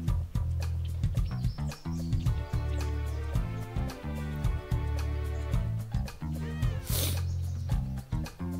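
Cats meowing in the Dog's Life video game, several loud, drawn-out meows and caterwauls over steady game music, with a brief burst of other game noise near the end.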